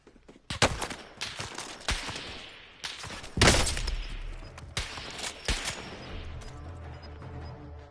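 Bursts of gunfire in Warzone, the video game, crack out in scattered volleys of shots and rapid fire, some loud and close, others trailing off, with no talking over them.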